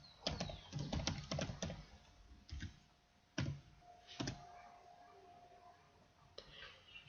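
A computer keyboard clicks in quick bursts as a password is typed for a MySQL setup, a short flurry of keystrokes followed by a few spaced taps, quiet and close with no talking.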